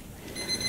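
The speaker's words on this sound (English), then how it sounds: "the timer has gone off." A kitchen timer alarm going off in a home kitchen during almond milk making, a faint, brief, high electronic beeping that starts partway through over a quiet room background.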